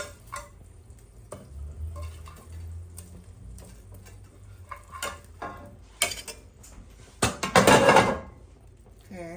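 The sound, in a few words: meatballs being placed into a cooking pot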